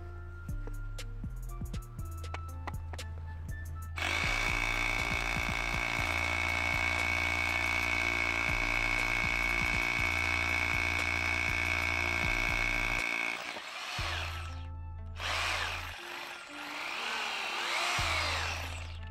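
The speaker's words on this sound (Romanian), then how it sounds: "Găurire cu percuția, hai să vedem așa." A Bosch GBH 2-28 F hammer drill bores in hammer mode with a Wolfcraft 10 mm bit, a loud, steady grinding roar lasting about nine seconds. Shorter bursts come before and after it, with a few sharp knocks in between.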